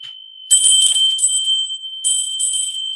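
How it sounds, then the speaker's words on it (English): A small bell rung to clear negative energies, giving two bright ringing strikes about a second and a half apart. Each leaves a sustained shimmering tone that lingers, close and loud against a quiet background. "a bell will also clear negative energies around you"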